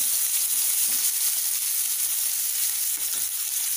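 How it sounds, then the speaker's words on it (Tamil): Chopped cabbage frying in hot oil in a pan, a steady close sizzle and crackle with faint stirring scrapes, no voices. "லைட்டாக ஃப்ரை பண்ணிக்கலாம்."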